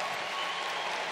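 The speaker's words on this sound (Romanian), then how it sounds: "Hai să aplaud de cine mă știe prima dată." Applause from a large stand-up comedy crowd in a packed arena hall, a dense steady wash of many hands clapping at once, loud and continuous with no voices over it.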